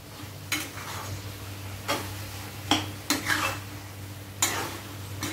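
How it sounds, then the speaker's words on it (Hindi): Crumbled homemade paneer stirred into palak in a pan: a soft sizzle under a low background hum, broken by several sharp scraping clicks of a spoon against the pan, loud and close. "तो ये इसमें हम डाल देंगे और इसको अच्छे से मिक्स कर लेंगे।"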